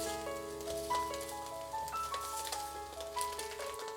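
Egg-coated water chestnut cake pan-frying in a pan gives a steady, moderate sizzle with soft crackles, with faint tonal background music running throughout.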